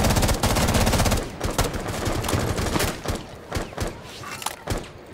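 Automatic gunfire in the video game Rainbow Six Siege: close, loud bursts of rapid shots at first, breaking into scattered single shots and short volleys as it goes on.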